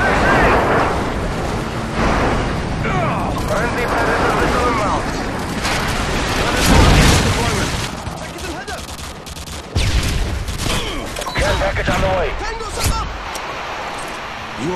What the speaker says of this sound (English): Friendly airstrike inbound.